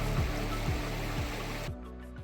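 Creek water rushing steadily on a trail crossing, a broad close wash of flowing water that drops away near the end as the rush fades, with no talking over it.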